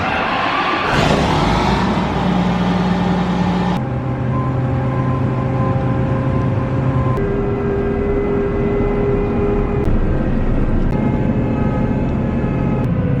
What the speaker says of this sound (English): Fire up the combine, get rolling here. Cold start, that's right